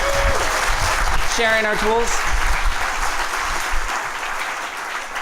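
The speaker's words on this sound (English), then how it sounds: "let's give them all a big round of applause as a unit." A live event audience applauds loudly and steadily throughout, with a voice speaking briefly over the clapping near the start.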